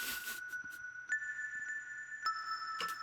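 Soft Surge synthesizer bell tones in Ableton ring and sustain, with a few bright metallic strikes layered over long, steady pitches, gentle and fairly quiet.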